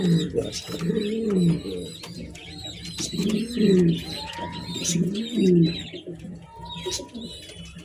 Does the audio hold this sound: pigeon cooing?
yes